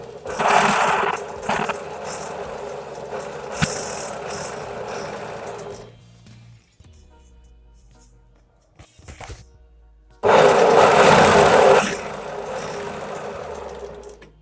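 A tailoring sewing machine stitches after its tension nut is tightened, loud near bursts of rapid mechanical whirring and clatter, stopping for a few seconds of quiet handling knocks before a second loud run, with no talk.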